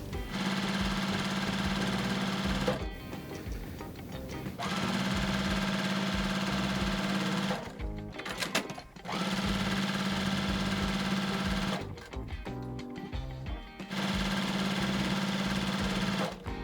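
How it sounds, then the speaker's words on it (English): A sewing machine stitches down both sides of drawn lines on fabric for half square triangles, running in three or four steady bursts with short pauses between, close and fairly loud, with no talk. "And now I'm going to sew down both sides of each line."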